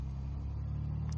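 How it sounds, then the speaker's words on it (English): Six-cylinder supercharged aircraft engine of a Turbo Arrow running up in a flight-sim game, a steady low droning rumble with a deep, even tone and little change across the short stretch, with no voices. "that 6-cylinder supercharged engine"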